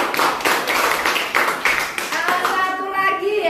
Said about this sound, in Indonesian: Kasih tepuk tangan kepada Cecil.